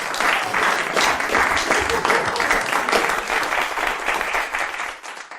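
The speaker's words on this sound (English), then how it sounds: "You go back to your seats with all of this applause." An audience applauds warmly for a performer named Dan, dense clapping holding steady for several seconds before tapering off at the end.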